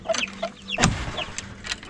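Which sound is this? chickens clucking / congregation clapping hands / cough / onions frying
chickens clucking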